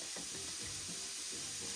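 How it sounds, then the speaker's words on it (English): Faint, steady sizzling of onion and garlic frying in olive oil in a pan, a soft continuous hiss with small crackles and no talking. "I'm gonna add my onion and my garlic to my pan here. Ooh, I love the sizzle."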